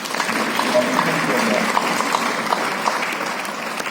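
Audience at an interview event honoring a school principal giving a round of applause, dense and steady clapping from a crowd at moderate loudness, continuous throughout.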